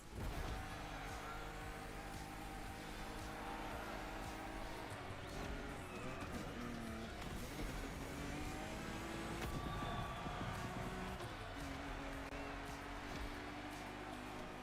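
Racing cars in The Crew Motorfest give off a steady, fairly quiet engine drone with shifting revs throughout, and no distinct crash stands out.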